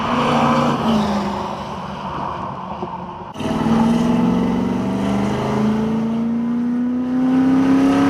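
A V8 Ford Falcon drives along a road, its engine droning low and steady with a rising pitch as it accelerates, heard from inside the car without talk.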